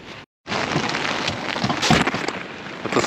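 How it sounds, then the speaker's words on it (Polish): Heavy rain pours down during a fishing session, a dense, steady broadband hiss close by with a brief dropout near the start, then continuous and loud throughout. "Pada deszcz i to dosłownie ściana deszczu."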